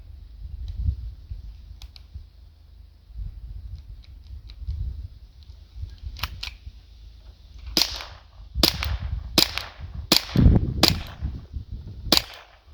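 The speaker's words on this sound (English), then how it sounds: "I'm going to take shots at the chest this first guy." Gas blowback shots from a KWC Makarov PM airsoft pistol fired at targets, sharp cracks arriving as a slow run of about seven separate shots in the second half, over a low background rumble.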